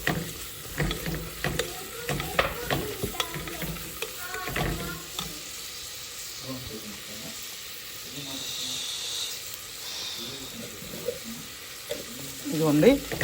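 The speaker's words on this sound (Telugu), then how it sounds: "కొంచెం వేగిన తర్వాత జింజర్ గార్లిక్ పేస్ట్," Ginger garlic paste fries in a pan for Nellore-style katte pongal. Close stirring scrapes and bursts of sizzle come first, then settle into a softer, steady hiss before the scraping returns.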